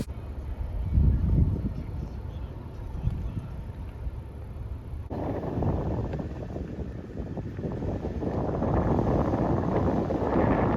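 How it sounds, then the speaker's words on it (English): Wind buffets an outdoor microphone at a windy historic roadside spot, producing heavy, rumbling low roar and gusty rustle. The noise swells and surges continuously throughout, loud and close, and nobody speaks. "too windy to talk out here."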